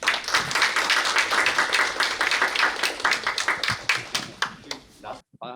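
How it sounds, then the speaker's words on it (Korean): An audience at a university-and-city forum applauds to welcome a speaker, brisk dense clapping that holds steady, then thins and fades out near the end. "큰 박수로 맞이해 주시기 바랍니다"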